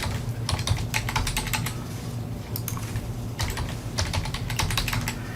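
Rapid clicking of a computer keyboard as a password is typed, bursts of close, crisp keystrokes with brief pauses between them over a steady low background hum.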